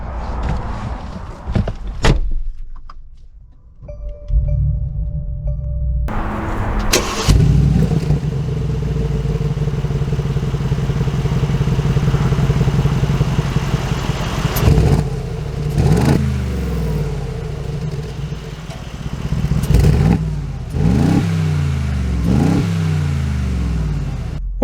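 A custom Mercedes G63 G-Wagon engine cranks and catches after a door thud, then idles and revs repeatedly as the SUV pulls away, with rising and falling engine swells close by.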